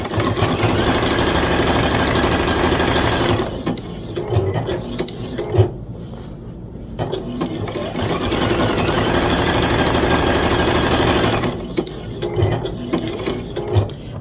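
A sewing machine runs a zigzag stitch along a quilt's honeycomb border, with a dense mechanical whir and ticking that stops briefly twice, then resumes.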